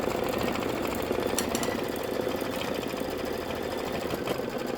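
Embroidery sewing machine stitching a tack-down line on a Kimberbell fresh flowers design, a steady fast mechanical chatter of needle strokes that runs continuously and close up with no pauses or talk.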